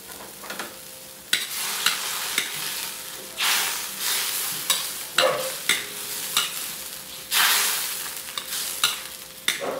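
Tofu (tokwa) fries in a pan with a steady sizzle, broken by repeated bursts of louder crackling and scraping as it is stirred and turned.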